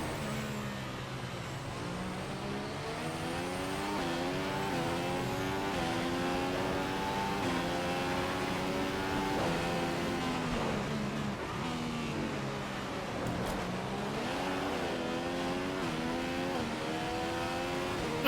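A Formula 1 car in the F1 2015 racing game at Monaco accelerates hard with rising, stepping engine revs that climb and shift through gears, loud and continuous throughout with no talk.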